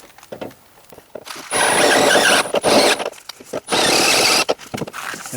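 A power drill bores out a hole in a Renault Master camper van conversion, with two sustained loud whirring bursts separated by short pauses and scraping handling noises.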